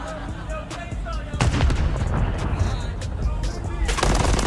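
Gunfire from a first-person shooter video game during a competitive match: repeated sharp bursts and dense volleys of shots over a busy, loud background, with a heavier cluster of blasts near the end.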